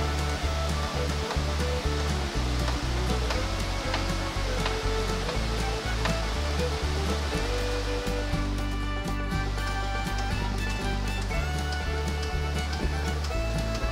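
Second tier of the Rayap waterfall at Nisam, North Aceh, pouring as a steady, loud, broadband rush of falling water that continues unbroken without voices.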